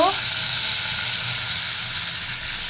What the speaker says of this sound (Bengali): কষে মশলা কষানো হয়ে গেছে মশলা থেকে তেল ছেড়ে দিছে